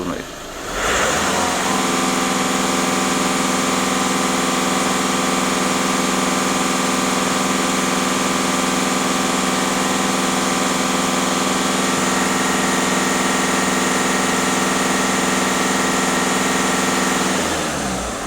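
A VW Touran 1.6 TDI diesel engine runs at a raised, held speed during EGR and particulate filter cleaning, giving a loud, close, steady drone that starts after a second and stays constant throughout, with no voices.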